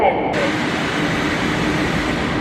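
Steady loud rumbling roar of a train in motion, continuous broadband noise throughout with no pauses.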